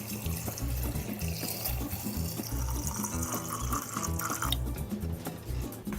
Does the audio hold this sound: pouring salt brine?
yes